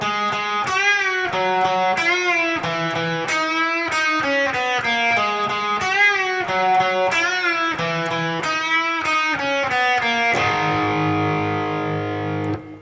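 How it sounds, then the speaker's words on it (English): A distorted electric guitar plays a solo phrase twice, ending on a sustained chord, loud and alone. "So the guitar solo comes in following the 2nd chorus,"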